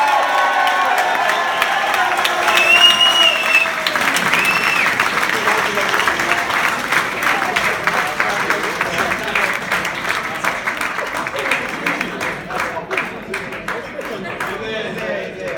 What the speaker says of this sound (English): Let's make some noise for Mr. and Mrs. Naniwa.